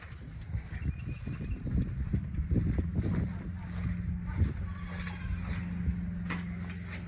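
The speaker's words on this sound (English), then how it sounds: "I hear an airboat back there on the canal." An airboat on a canal beside flooded farmland, heard as a steady distant engine drone under continuous gusty wind buffeting the microphone, with scattered rustling and knocks close by.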